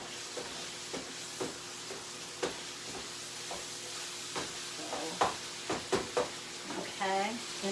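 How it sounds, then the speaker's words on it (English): Ground meat browning for keto chili sizzles steadily in a pan, with irregular scrapes and stirring knocks breaking through the hiss and a brief voice near the end. "We're getting the meat browned over here."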